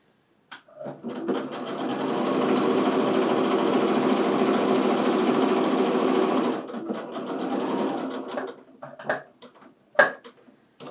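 Sewing machine stitching a quilt seam of split quarter square triangles, a continuous close mechanical hum for several seconds that slows and stops, followed by fabric handling and small clicks.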